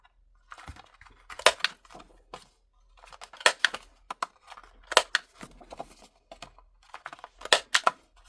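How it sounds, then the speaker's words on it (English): A corner rounder punch rounding paper corners gives several sharp, close clicking crunches spaced a second or so apart, with faint handling rustles between presses and no talk. "Then just take my punch here, round off the corners."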